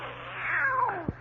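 A cat yowls in a long, drawn-out caterwaul with a falling pitch, used as a sound effect in an old-time radio comedy, ending in a short low thump; the yowl is loud, close and heard without talk.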